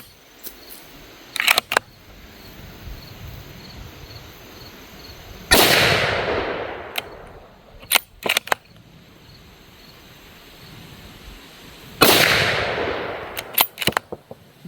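Two loud shots from a CVA Cascade SR-80 .308 scout rifle with a muzzle brake, each a sharp crack with a long rolling echo outdoors, plus scattered metallic clicks of bolt handling between them.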